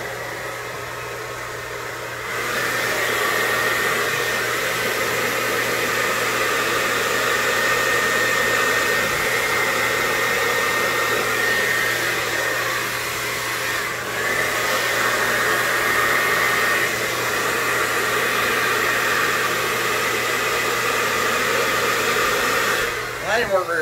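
A hair dryer blows steadily on acrylic paint during a pour painting session, a loud, close, continuous whooshing hum that starts after a quiet opening and runs unbroken for about twenty seconds before cutting off.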